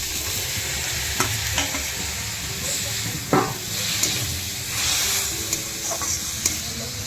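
Tomato going into a hot pan for chicken momo filling, with a steady broadband sizzle and occasional stirring clicks and scrapes over seven seconds.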